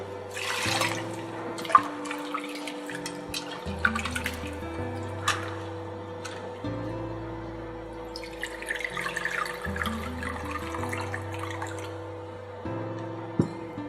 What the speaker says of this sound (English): We'll wash it nicely with water.